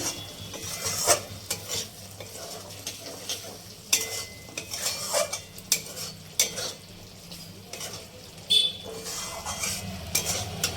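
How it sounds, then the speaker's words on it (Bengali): A spoon stirs dahi potol, a vegetarian curry of pointed gourd in yogurt gravy, through oily sauce in a pan; repeated scraping strokes and soft sizzling sound up close, with no talk. "নেড়ে চেড়ে নামিয়ে নেব"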